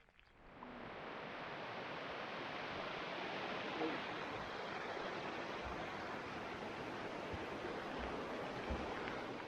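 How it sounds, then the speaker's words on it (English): A small waterfall beside a rocky scree path in the Lake District, pouring as a steady, full rushing roar that fills the whole stretch without pause, close and constant. "there's a beautiful little waterfall over there"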